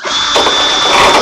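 A brand-new Black and Decker power drill runs in one short, steady burst, a loud close-up whirring grind with no talk over it.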